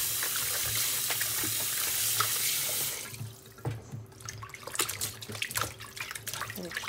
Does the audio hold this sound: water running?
yes